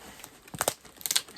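Kid scissors cutting into a cardboard box, a handful of short crunchy snips and crinkling scrapes in an uneven cluster, close and fairly quiet, with no talking.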